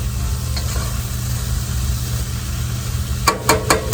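Food sizzles steadily in a camp pan while it cooks down outdoors, a constant close frying hiss joined near the end by a few quick scraping stirs against the pan.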